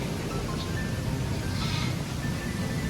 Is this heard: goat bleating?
yes